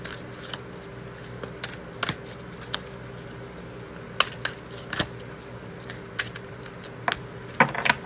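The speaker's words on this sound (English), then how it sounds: "And let's draw a few chakra cards." Chakra cards being shuffled and drawn by hand, with scattered sharp flicks and slaps of card stock over a low steady hum, close and fairly quiet.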